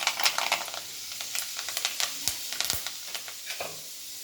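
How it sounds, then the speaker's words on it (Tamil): Fenugreek seeds frying in a pan on the stove make quick, irregular crackles and pops over a faint sizzle. "இப்போ இன்னும் சட்டி அடுப்பில் வச்சு வெந்தயம் போட்டுக்கலாம்"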